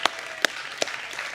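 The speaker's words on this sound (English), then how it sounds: "We can give her a round of applause." Audience applause at a birthday acknowledgement, heard as three distinct sharp claps spaced evenly about 0.4 seconds apart over a soft background wash.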